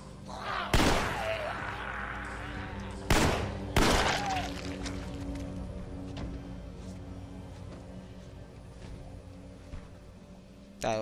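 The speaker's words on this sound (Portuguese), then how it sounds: "Tive que dar tiro." Gunfire in The Walking Dead: Survival Instinct game, three sharp loud shots in quick succession early on, then a quieter stretch with faint background game sounds and a last burst at the end.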